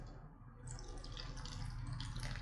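Water pours steadily into a blender holding raw plantain and oatmeal, a close, soft splashing stream that starts after a brief pause and runs on evenly.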